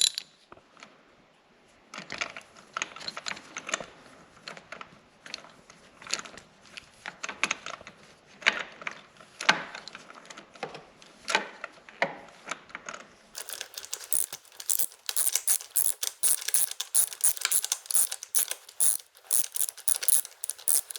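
A hand ratchet clicks in quick repeated bursts while loosening spark plugs on a 2020-or-later Yamaha R1 motorcycle, close and fairly quiet, with the clicking growing brighter and faster toward the end.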